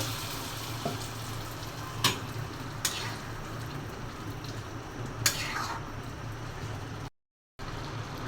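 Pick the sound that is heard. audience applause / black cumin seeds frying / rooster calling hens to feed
black cumin seeds frying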